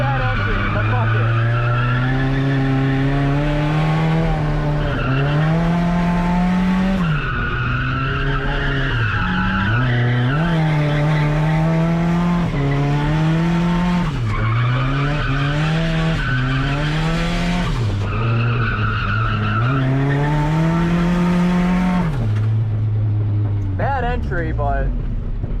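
A Nissan 240SX with an SR20 engine drifting, engine revving up and down in repeated loud surges with sustained tire squeal, close and continuous for the whole stretch.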